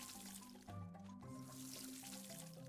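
Planted seeds are watered in a farming video game, a soft, steady pouring-water effect under quiet background game music, faint throughout.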